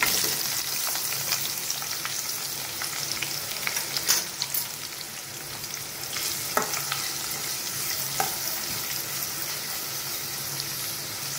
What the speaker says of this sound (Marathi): मी कांदा आणि टोमॅटो कढईमध्ये एकत्रच टाकणार आहे